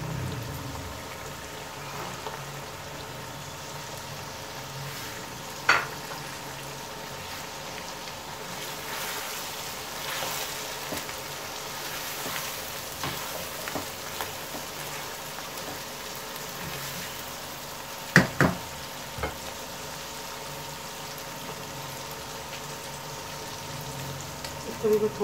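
Mutton keema with peas sizzling and frying in a pan, a steady crackling hiss throughout with occasional clinks and scrapes of stirring, speech audible in the background at times.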